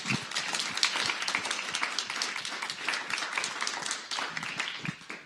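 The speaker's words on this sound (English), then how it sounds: "please join me in a round of applause for our panelists today and the work they do" Audience applause for a panel of speakers at a policy event on digital threats: dense, steady clapping from many hands that fills the room at an even level throughout.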